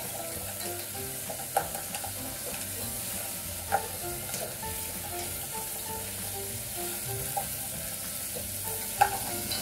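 Desalted clams stir-frying in a pan for sundubu jjigae give a soft, continuous sizzle with a few sharp clacks of shells or utensil knocking, close by and without talk.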